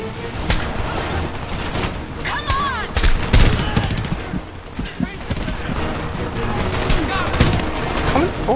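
Dense covering gunfire in the shooter game Homefront: rapid automatic bursts and overlapping shots fill the whole stretch, loud and continuous, with occasional voices shouting over the battle.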